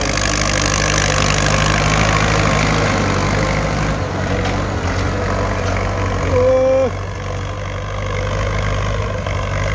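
Diesel engine of a Ford 6600 tractor ploughing a weedy field, a steady loud rumble that runs the whole time and shifts slightly partway through as the load changes.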